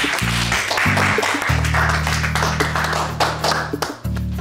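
Clapping from a Turkish comedy sketch with Keşanlı Mücahit, sharp hand claps running through the clip over a steady low buzzing tone, moderately loud with some background voices.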